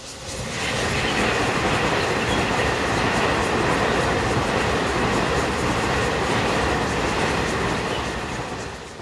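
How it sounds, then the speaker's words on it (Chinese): A train on the Taitung Line railway in Yuli, Taiwan rumbles past close by, a loud sustained roar with rhythmic clattering of wheels on track that swells and then fades slightly at the end. "我喜欢听火车那种经过的声音，"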